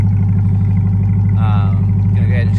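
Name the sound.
Chevrolet Corvette C8 engine revving with Corsa Extreme exhaust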